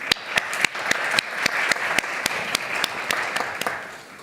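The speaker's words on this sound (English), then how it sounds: "A round of applause for Lauren, please." Applause from a forum audience, a steady wash of many hands with sharp individual claps standing out, fairly close and sustained for several seconds with no talk over it.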